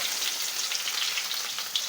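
Mustard seeds crackling and popping in hot oil in a pan, a dense, steady sizzle with tiny sharp pops scattered across it, close and fairly quiet.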